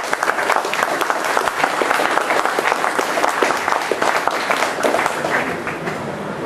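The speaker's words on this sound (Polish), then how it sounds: "Wielkie brawa." Crowd at a foundation's birthday celebration claps in a loud, sustained ovation, dense overlapping claps filling the room at an even level with no voices over it.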